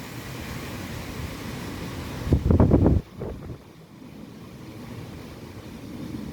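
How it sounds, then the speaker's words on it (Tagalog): Strong wind blows steadily around a house during a typhoon signal, with a loud gusty roar that rises briefly in the middle before easing back to a constant rushing. "Bilis ng hangin, oh."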